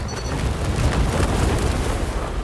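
Missile explosions in War Robots: Frontiers, a loud, dense rumbling barrage of booms and blasts that runs continuously with no pauses.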